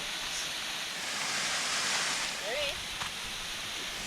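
A waterfall on a hike at Pretty Close roars as a continuous broadband rush of falling water, loud and steady, with a brief bird-like chirp and some voices faintly in the background.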